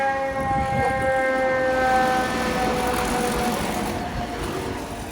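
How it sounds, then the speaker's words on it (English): A fire truck siren wails loudly through a New York City street during a snowstorm, a steady sustained tone with traffic rumble underneath, fading slightly toward the end. "This here in New York City, always you gotta hear the sirens."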